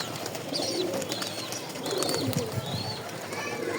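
Pigeons hopping about give soft, low coos amid a busy wash of bird chirps and background hum, moderately close and fairly quiet.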